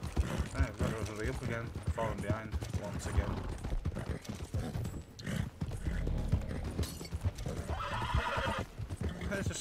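Rapid clip-clop of hooves and horse whinnies from the game Red Dead Online, with people talking over it and mechanical clicking sounds mixed in.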